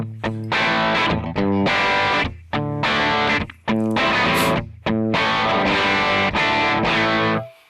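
Distorted electric guitar played through a Kemper Profiler amp, loud chugging power chords in several bursts separated by brief stops and ringing sustains.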